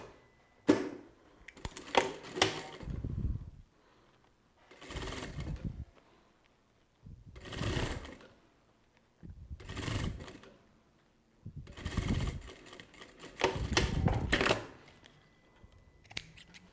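An industrial sewing machine stitching bias binding runs in six short, whirring bursts of one to two seconds each, separated by quiet pauses, close and moderately loud, with no talk.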